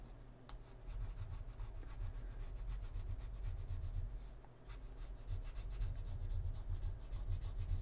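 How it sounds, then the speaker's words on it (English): Plastic scraper working sticky sticker residue softened with alcohol off a surface during a 2012 MacBook Pro repair, a quiet continuous rubbing and scratching with repeated short strokes, close and faint. "let's see if this scraper does a job"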